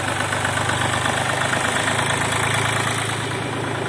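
A Japanese mini tractor with a tiller attachment runs its diesel engine close by, a steady, smooth low chugging drone that holds throughout with a slight lift in pitch partway through.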